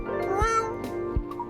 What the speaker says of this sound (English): That is a cat.